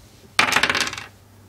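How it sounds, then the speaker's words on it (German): Dice tumble during a game of Catan, giving a quick burst of hard clattering that rattles for about half a second and then settles, with no talk during the roll. "Wir würfeln mal."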